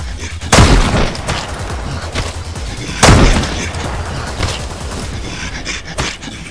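A shotgun fires twice in Mist Survival, two loud, sharp booms about two and a half seconds apart, with a smaller crack near the end and rumbling ambience between shots.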